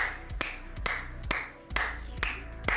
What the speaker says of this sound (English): That applause is literally for me and Jess.